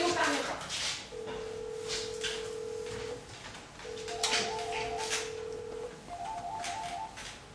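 A telephone ringing down the line, long steady ring tones repeating with short pauses between them, heard faintly through a handset with low background noise.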